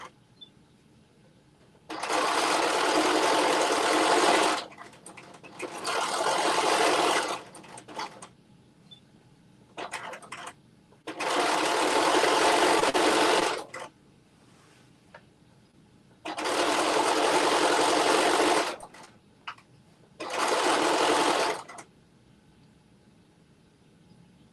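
A sewing machine stitching the seam of jumpsuit pants, running in five or six bursts of a few seconds each, close and loud, with quiet pauses between runs.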